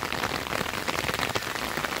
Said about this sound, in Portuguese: Gente, a chuva tá engrossando,